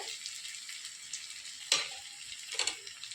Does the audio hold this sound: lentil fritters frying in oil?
yes